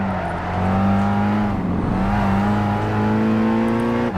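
A race car engine drones loudly in the Gran Turismo 5 racing game during a Nürburgring event, holding a steady high-revving pitch that dips briefly before climbing again, constant and close throughout.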